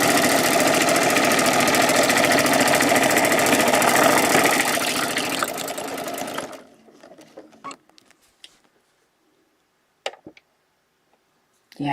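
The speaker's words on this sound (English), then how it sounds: "I'm just going to set this machine so it doesn't stitch quite as fast." A sewing machine stitches a feather template in a fast, loud, continuous run that slows and stops after about six seconds, followed by scattered faint clicks and handling noises.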